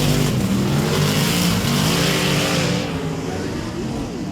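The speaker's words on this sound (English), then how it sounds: "they're letting their engines roar on the high banks at High Tech Oil Speedway right here in Toowoomba" Loud, sustained roar of V8 Dirt Modified race car engines at High Tech Oil Speedway in Toowoomba, a dense wall of engine noise with shifting pitch as cars run the high banks, easing slightly toward the end.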